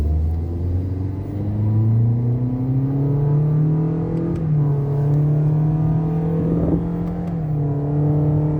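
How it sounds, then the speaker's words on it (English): 2021 Toyota Yaris with a CVT at full throttle, a loud continuous engine drone heard from inside the cabin, pitch climbing smoothly and holding high with little stepping, steady rumble throughout. "OK， full throttle。"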